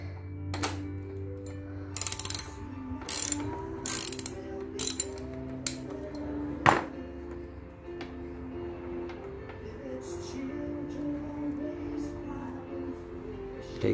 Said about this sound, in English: We're going to finish removing the axle nut.